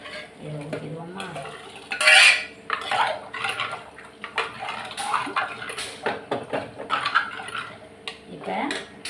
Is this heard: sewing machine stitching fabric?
no